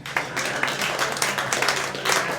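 A live comedy audience bursts into a round of applause, dense overlapping claps sustained throughout with a few whoops and voices mixed in.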